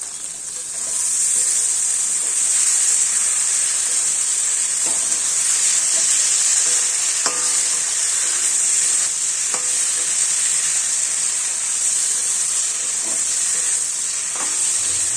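Fish curry spice paste with green chilies fries in a pan for a rohu fish curry, making a loud continuous close sizzle with occasional spatula scrapes and clicks and no talk.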